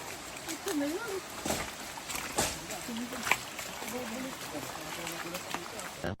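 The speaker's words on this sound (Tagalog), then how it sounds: "Naririnig na ang agos ng tubig." Mountain stream flowing near a waterfall, a soft continuous rush and splash of water with a person talking over it throughout.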